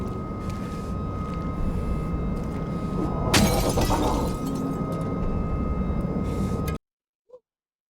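A car's back window shatters in the Silent Hill 2 Remake video game: one sharp burst of breaking glass with a short scatter of falling fragments over a steady rumbling ambience, followed by abrupt silence and a small faint tap.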